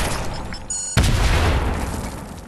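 Grenade blasts in a first-person shooter video game played in solos: a sudden loud boom at about one second with broadband rumble that lingers, following a brief burst of gunfire-like crackle.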